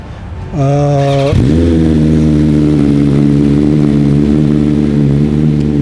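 A motorcycle engine kicks in with a buzzy tone, gives a quick rev, then settles into a loud, steady running drone that stays close for several seconds.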